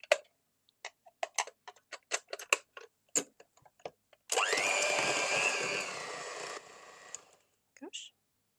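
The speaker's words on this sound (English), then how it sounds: "then use my hand mixer" A hand mixer whips coconut cream in a steady whirring burst lasting a couple of seconds and then stopping. It comes after sharp clicks and taps, with speech briefly present.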